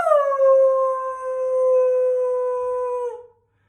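A person's voice imitates a dog's howl: one long, steady, tonal wail held for about three seconds before cutting off.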